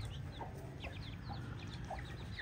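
A small flock of chickens with young chicks clucks and peeps softly and continuously outdoors, overlapping calls against a steady background hum.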